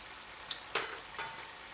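Mixed curry powder going into a frying beef Naga curry, a quiet sizzle with one sharp hiss as the powder lands and a smaller burst after it, close and without talk.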